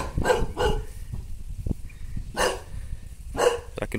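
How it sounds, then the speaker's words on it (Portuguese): A fierce dog on a rural farm barks several times from a moderate distance, with loud single barks in two clusters and quiet gaps in between. "Ixi, tem um cachorro bravo ali."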